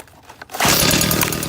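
A small handheld blower starts up about halfway through, jumping from quiet to a loud, steady whirring roar that holds close by, used for clearing trimmings and clippings from landscape beds.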